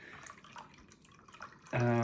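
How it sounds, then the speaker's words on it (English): Warm water for pizza dough runs from a tap into a container on a scale in a kitchen: a few faint drips, then a loud, steady gush of pouring water that starts abruptly near the end. "We're going to weigh out 500 ml of water to start off with."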